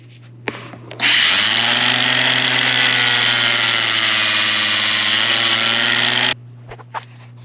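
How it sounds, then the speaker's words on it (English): An angle grinder cuts grooves into the sides of plastic T-fittings, with one loud, continuous whining grind lasting about five seconds and then stopping, with faint handling clicks before and after. "I'm going to use this angle grinder, and I'm going to put a groove on the sides of the T-fittings"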